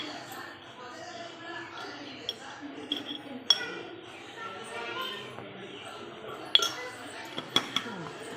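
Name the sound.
stirring fish pieces with spices in a pan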